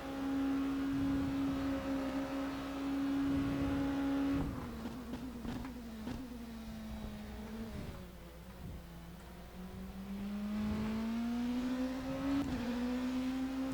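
A race car engine drives in rFactor 2, a loud steady drone that drops and climbs in pitch as the car lifts, shifts and accelerates out of corners.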